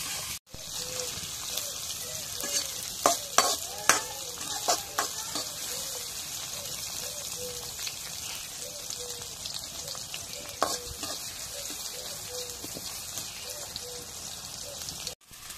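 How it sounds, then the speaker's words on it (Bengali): Food fries in oil in a pan with a constant crackling sizzle, while stirring adds scattered sharp scrapes and clinks, and a voice speaks faintly now and then. "নাড়া দিই।"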